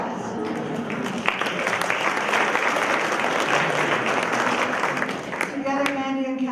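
Sustained applause from an audience at an art and activism event, broad steady clapping throughout with a voice emerging near the end.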